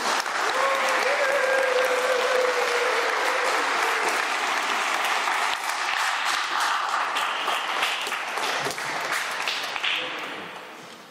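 Wedding guests in a church in Louviers applauding the newlyweds after the ceremony: sustained, full clapping from the congregation that gradually thins out toward the end.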